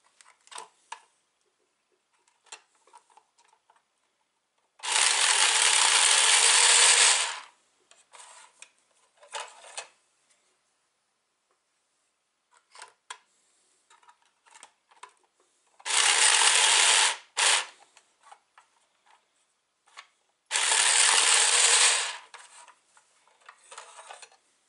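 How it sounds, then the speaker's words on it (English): Playing cards shuffled for a blackjack game, in three separate rasping riffle bursts, each a couple of seconds long, with near silence and light handling noises between them. "Okay, let's shuffle the cards here."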